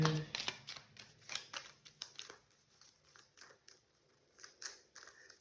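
Oracle cards being handled and drawn from a shuffled deck: a close, quiet run of crisp papery flicks, rustles and soft slaps in an irregular rhythm.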